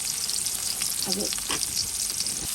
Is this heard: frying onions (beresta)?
yes